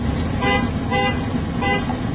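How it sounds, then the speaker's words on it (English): A car horn honks repeatedly in short blasts at a gas pump, three pulses of loud toots close by over a steady background hum. "why are you blowing that horn?"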